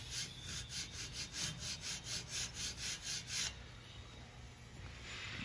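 A hand file draws back and forth across a metal precision square in a shop, about eight steady, even rasping strokes that stop abruptly partway through, leaving low background hum.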